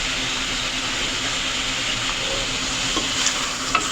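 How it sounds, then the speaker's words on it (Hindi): Chicken with turmeric, ground coriander and chili is stirred in a hot pot for a village-style curry, giving a steady close sizzle with a few brief scraping clicks near the end and no talk. "इसको करेंगे अच्छी तरह मिक्स।"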